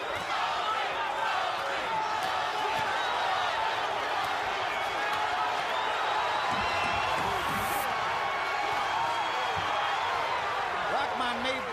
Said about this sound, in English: Crowd is starting to chant Toney, Toney, Toney.